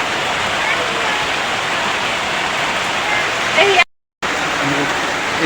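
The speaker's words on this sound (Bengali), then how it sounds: "এখনো বৃষ্টি পড়তেছে দেখেন" Constant broadband hiss of rain falling, loud and steady, briefly cut to silence near the end before resuming.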